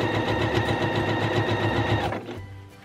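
A Pfaff Quilt Ambition 2.0 sewing machine stitches a seam through box cushion fabric, a steady rapid needle chatter with a motor hum running loud and close before stopping abruptly near the end.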